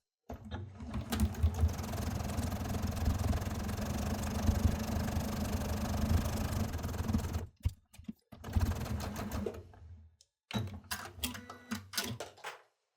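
A sewing machine stitches pinned pairs of quilt fabric triangles, with a steady, close mechanical whirring run that stops briefly twice, followed by shorter bursts of stitching.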